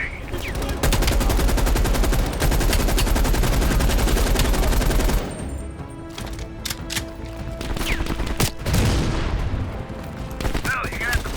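Sustained machine gun fire from an enemy MG emplacement in Call of Duty: Black Ops Cold War, loud and continuous for several seconds, then giving way to scattered gunshots and battlefield noise.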